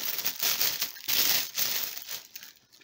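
Gift wrapping paper being unwrapped and crinkled in steady bursts of rustling and crumpling for a few seconds, close and fairly quiet, with no talking.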